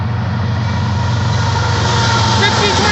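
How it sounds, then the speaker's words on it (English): A southbound Union Pacific intermodal freight train led by three locomotives rumbles steadily close by, with a deep low engine drone and a broad continuous roar of wheels that holds for the whole stretch. "Here it comes, guys. We're gonna have a southbound intermodal train."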